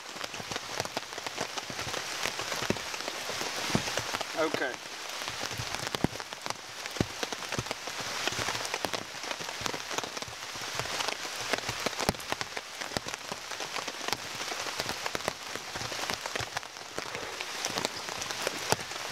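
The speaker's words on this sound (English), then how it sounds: "the rain steadily hitting it" Steady rain patters on the ground and a burning pine resin fire outdoors in a swamp, a continuous dense hiss of drops throughout, with one brief spoken word.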